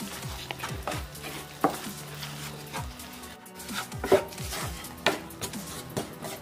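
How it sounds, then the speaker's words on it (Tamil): Oats and jaggery powder are stirred in ghee in a pan over a low flame, with a spoon scraping and tapping the pan at an irregular rhythm over a faint low sizzle, quiet and close. "இந்த நெய்யோடு விடாமல் மிக்ஸ் பண்ணிக்கிட்டே இருங்க."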